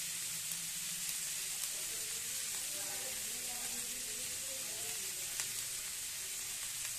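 Chopped onions sizzle steadily in hot oil with cumin for a bitter gourd curry, a continuous close hiss with faint scraping and stirring underneath.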